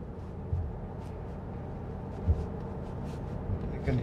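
Steady, low road and tyre roar inside a Tesla Model 3 driving over a changed road surface at constant speed, a fairly quiet even rumble with no voices over it.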